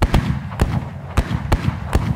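In an audio drama, a gun is emptied near crashing waves, giving five sharp, evenly spaced cracks that sound like distant fireworks over a rumbling surf background.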